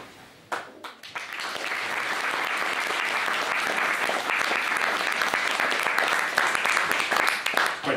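Audience applause after a game-development talk, sustained clapping from a seated crowd in a hall, building quickly and holding steady for several seconds with no voices over it.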